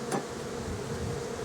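Honeybees buzz around hive frames being pulled from the hive, a dense continuous drone close by with one louder bee passing near, no talk.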